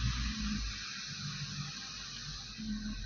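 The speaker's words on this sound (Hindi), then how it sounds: "देखिए एसी चल रहा है, आवाज आ रही है ना, एसी चल रहा है" A car's AC blower runs with a steady, airy hiss and a low hum throughout, close and even. A faint low tone comes and goes beneath it.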